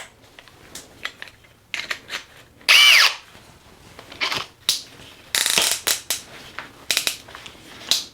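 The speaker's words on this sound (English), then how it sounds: "This is a 3/8 bit. So we're just gonna be drilling a hole right here." A Metabo HPT 36V hammer drill with a 3/8 bit bores in several short, loud bursts with brief pauses between, close by and without any talking.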